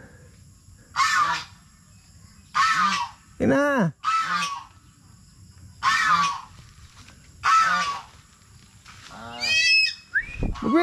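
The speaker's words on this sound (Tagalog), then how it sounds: "Nagtatakot siya doon sa gansa." A goose honks in a series of loud, nasal calls at irregular intervals nearby, each lasting about half a second, with a person speaking briefly between the honks.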